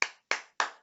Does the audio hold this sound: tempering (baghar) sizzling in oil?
no